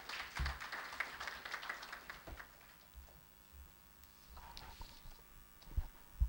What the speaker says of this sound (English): A big round of applause for our President.